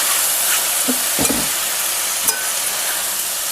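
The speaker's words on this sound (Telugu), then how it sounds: "ఈ ముక్కల్లో మనం కట్ చేసి పెట్టుకున్న టొమాటోస్ వేసుకున్నాం" Four or five chopped tomatoes hiss in hot oil in a pan for a garden-vegetable roti pachadi, a loud steady sizzle broken by a few scraping stirs of a spatula.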